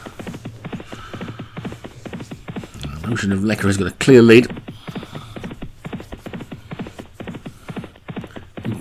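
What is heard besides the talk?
racehorses galloping in steeplechase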